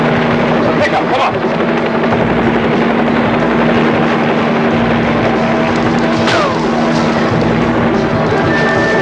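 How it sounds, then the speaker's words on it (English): A sheriff's helicopter drones steadily and loudly with a continuous rotor and engine hum, steady throughout, in a 1974 film soundtrack. "Sheriff's helicopter 27."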